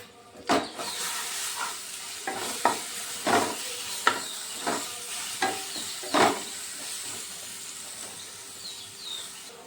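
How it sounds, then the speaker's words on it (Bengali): Ground spices with tomato sauce sizzle and spatter in a pan for potato-ball snacks, a steady hiss broken by several sharp stirring scrapes and clacks, close and moderately loud with no talk. "মশলা ভাজা হয়ে গেছে,"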